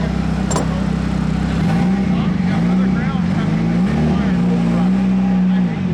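A Nissan SR20-engined car is driven on a test run, its engine droning loudly from inside the cabin, with the pitch rising and falling as it revs through gear changes.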